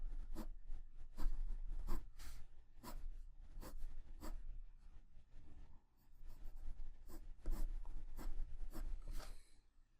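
Colored pencil strokes drawing hair on paper give a steady run of quick scratchy flicks, grouped in rhythmic bursts with a short pause midway, close and clear with no talking.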